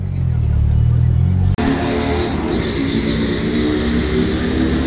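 A car revs hard in a loud, rough roar. After a sharp cut the sound changes to a gritty, broadband wash that fits tires spinning and screeching in a burnout at street racing runs.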